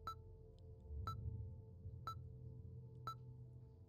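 Four short electronic beeps sound in Five Nights at Freddy's at Fazbear's Fright, spaced about a second apart over a continuous low droning hum.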